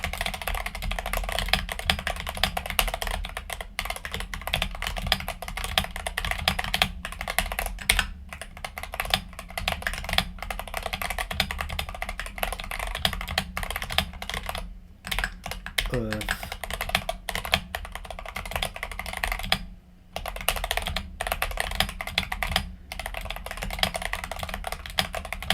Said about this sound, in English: just because I haven't typed on the keyboard for a while, I'm slower